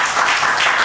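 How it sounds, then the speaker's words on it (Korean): Congregation at a church service standing and clapping together to welcome newcomers, a dense, steady patter of many hands filling the room without a break. "다 같이 한번 일어나 박수로 환영하겠습니다."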